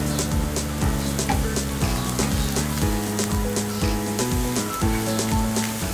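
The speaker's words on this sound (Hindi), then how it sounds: "और 1 कप कटी हुई बंद गोभी शामिल करें। अच्छी तरह फ्राई करें।" Chopped cabbage and capsicum fry in a pan for Singaporean rice, a steady sizzle running throughout beneath a louder bed of rhythmic background music.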